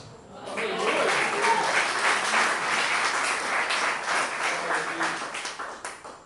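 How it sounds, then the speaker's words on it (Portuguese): Church congregation applauding during a sermon, a steady sustained wash of clapping from many people that holds for several seconds before thinning out near the end. "Agora vê se você entende e aplaude se entender."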